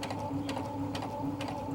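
A sewing machine stitches a skirt seam, its steady mechanical hum and whirr running continuously with faint rhythmic ticking, close and even throughout, no talk.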